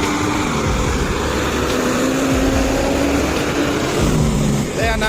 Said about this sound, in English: Una volqueta Volvo, creo que es una volqueta Volvo, sobre dimensión y mucho peso.